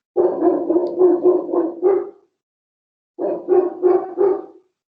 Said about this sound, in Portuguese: O cachorro.